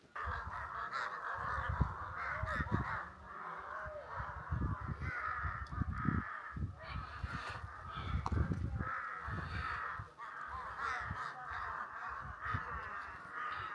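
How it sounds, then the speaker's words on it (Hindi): Crows caw noisily and repeatedly from close by along a mountain trail on the Kedarkantha trek, the harsh calls overlapping, with a person's voice occasionally heard underneath. "पता नहीं यहाँ पे कौवे क्यों शोर मचा रहे हैं।"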